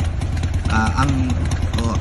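A 2008 Harley-Davidson Sportster Roadster 1200cc with a carbureted engine idles close by, a steady low rumble that runs throughout, with voices talking over it.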